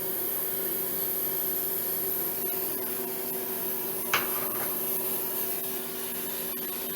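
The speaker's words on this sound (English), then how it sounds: "Got the vent on so it sucks out any smell." Steady vent fan running near a propane refill from a 20 lb tank into a 5 lb tank on a cold day, a constant even whir with a brief click partway through.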